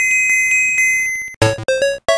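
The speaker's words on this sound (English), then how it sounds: "And there's the exit bell." In the Super Mario Land 2 video game, the level-exit bell rings with a sustained, pulsing chime. Bright, choppy electronic notes follow it, loud and close, with no voices.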